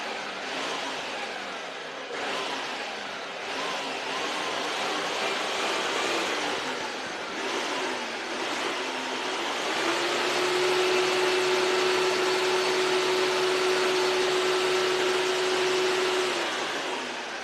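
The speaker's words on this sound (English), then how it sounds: "thank you for bearing with us with the blender" Blender running continuously for several seconds, a steady motor whir with a broadband grinding hiss that shifts to a higher, smoother hum partway through, with no voices.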